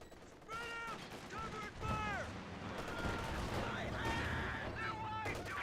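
Rifle grenade and gunfire in a Company of Heroes 2 battle, a brief blast amid continuous combat noise and crackling small-arms fire, with a voice talking over it throughout.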